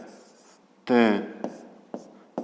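A pen scratches out handwriting on paper during a fifth-grade maths lesson about angles, with a few short strokes and taps under a teacher's brief speech.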